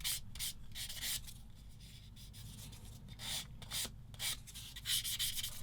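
A sanding stick rubs a plastic part of a 1/35 Bronco Mk XXIII submarine kit in short, quiet, repeated scratchy strokes close by.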